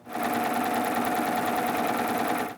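A serger sewing machine runs at steady high speed, stitching decorative thread onto fabric ruffles, a loud close continuous whirring hum with rapid rhythmic needle clatter from start to finish.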